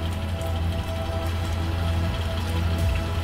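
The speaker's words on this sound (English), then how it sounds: "Is it raining blood?" Rain falls steadily in the horror video game Captured, a dense, even patter of drops with a low rumbling undertone, continuous and moderately loud with no talking.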